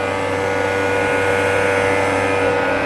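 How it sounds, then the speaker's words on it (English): A steady mechanical whir and hum of a 700hp drift notchback's electric pump running continuously up close, with a constant drone of radiator fans behind it. "once I click my radiator fans on here, you can hear the pump right here"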